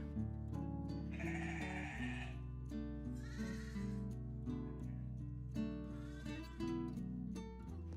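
Lambs and ewes on a sheep farm bleating in overlapping calls, several loud nearby voices wavering and trading back and forth over a constant low farmyard hum, no people talking.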